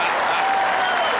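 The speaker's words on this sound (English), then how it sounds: "Big cheer for Primus" Large stadium crowd at the 2004 AFL Grand Final, Port Adelaide versus Brisbane, applauding and cheering in a dense, loud, continuous roar of clapping.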